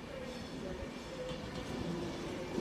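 Class 390 electric train 390117 rolls slowly into platform 6 at London Euston, a low steady rumble with faint wheel and rail noise, heard close and continuous.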